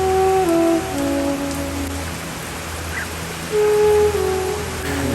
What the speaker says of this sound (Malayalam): ഞാനിത് കുക്ക് ചെയ്ത സമയത്ത് പുറത്ത് നല്ല മഴ പെയ്തുകൊണ്ടിരിക്കുന്നുണ്ട്